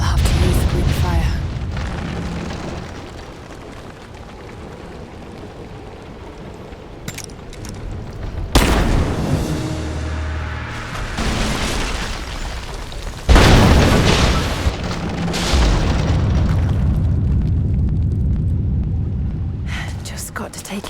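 Greek fire explosions in Rise of the Tomb Raider, set off against an unstable statue's supports, sound as two big booming blasts with long rumbling debris tails over a low ambient bed.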